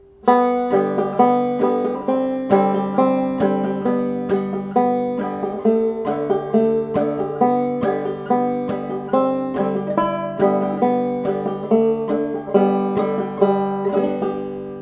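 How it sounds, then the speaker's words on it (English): A plucked banjo plays the tune Boil Them Cabbage Down as a simple single-note melody at a steady, bouncy rhythm, bright and close, without chords or any voices. "if I was to play the tune Boil Them Cabbage Down without any chords, it'd sound like this"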